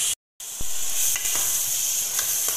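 Grated carrot halwa roasting in oil or ghee in a pan, a loud continuous sizzle with occasional scraping stirs of a spoon against the pan, close up and with no talking.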